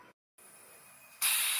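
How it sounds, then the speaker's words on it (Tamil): A pressure cooker cooking drumsticks on high flame lets out a sudden loud burst of steam hissing after a moment of near silence, continuing strongly to the end. "ஒரு விசில் வந்துடுச்சு, ஸ்டீம் எல்லாம் போயிடுச்சு."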